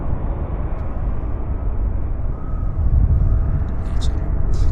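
An Airbus A321 airliner at Vancouver Airport gives off a steady, loud low engine rumble that holds throughout, with someone talking over it.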